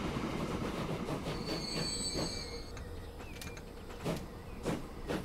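A freight train in the Western-themed game Transport Fever rolls steadily past with a continuous rumbling roar, high wheel squeals and periodic clicking rail joints, no talking.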